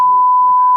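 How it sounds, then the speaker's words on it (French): A single steady censor bleep covers a spoken word, one loud continuous tone that cuts off abruptly as noise bursts in at the end. "Je vais le biper ce mot."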